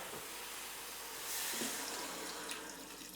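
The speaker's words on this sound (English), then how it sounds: "Pour in some water." Water pours steadily into a pressure cooker pot holding a large piece of meat, a soft continuous splashing hiss at close range with no talk.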